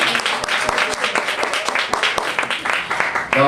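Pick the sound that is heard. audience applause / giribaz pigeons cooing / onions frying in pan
audience applause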